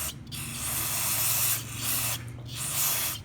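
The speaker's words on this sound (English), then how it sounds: "Just use some carb spray or brake part cleaner." Carb spray or brake part cleaner is sprayed onto the outside of a trash-picked 2011 Yard Machine engine in three loud, close hissing bursts separated by brief pauses.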